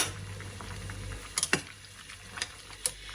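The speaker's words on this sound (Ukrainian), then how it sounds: "у мене закипіла квасоля" Beans boil in a pot, a soft continuous bubbling simmer with a few sharper pops and clicks scattered through it, fairly quiet and close, with no talking.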